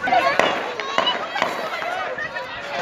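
During the Basant kite flying festival in Rawalpindi, aerial gunfire sounds as several sharp, distant cracks. They rise over a noisy outdoor crowd din while someone talks nearby.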